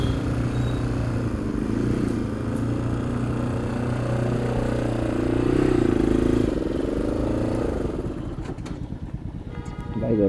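Motorcycle engines idling and revving close by at a lakeside parking area, a steady rumble that swells midway and then tapers off into lighter clatter.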